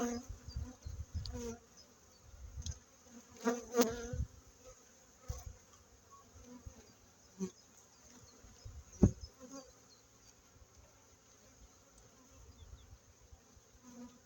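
Honeybee colonies buzz steadily at their hives in an apiary being prepared for the first acacia honey flow, a dense, continuous insect hum with a few louder bees passing close by and occasional soft knocks of hive handling.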